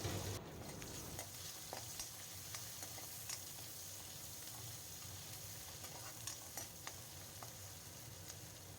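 Chopped onion with crushed ginger and garlic fries in a wok, giving a soft, even sizzle with light crackles and occasional stirring throughout.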